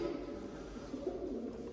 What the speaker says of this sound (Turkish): bu da çok güzel bir kuş